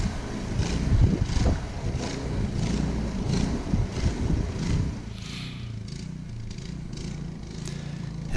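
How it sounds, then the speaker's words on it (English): A snow blower throws dry snow outdoors at an off-grid cabin, a close, rough engine roar with rhythmic surging pulses that eases to a lower, steadier drone partway through. "So I'm just blowing in front of me, and of course the blower doesn't want to blow directly in front of me"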